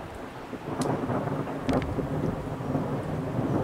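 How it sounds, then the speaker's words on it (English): Rain falls steadily during a slow-moving summer thunderstorm in Queensbury, with a low rumble of thunder rolling beneath and a couple of brief crackles, no voices. "It's a very slow moving storm."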